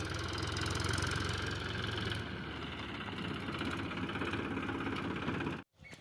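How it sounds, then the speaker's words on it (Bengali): A tractor's heavy engine rumbles and idles loudly nearby as it arrives to haul soil, its low drone holding steady before it cuts off abruptly near the end. "এই যে ট্রাক্টর আসছে মাটি নেওয়ার জন্য"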